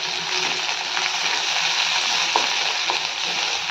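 Large-cut capsicum sautéing with onion in a pan for restaurant-style paneer chilli, a steady close hiss of frying with a couple of faint stirring clicks, no talking.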